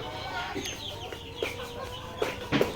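Tiger breed layer hens on a poultry farm give soft, scattered clucks and short calls at moderate distance over a steady barn murmur.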